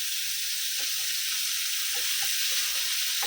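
Rawas fish sizzles steadily in hot oil in a home kitchen pan, a loud continuous frying hiss broken by a few soft clinks and scrapes as the pieces are turned.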